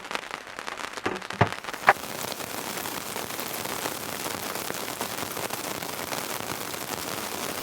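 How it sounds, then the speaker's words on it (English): Heavy rain falls on a surface during a storm in the Victorian High Country, a dense, steady hiss that holds at an even level, with a few sharp knocks near the start. "Still raining, quite a bit of water everywhere."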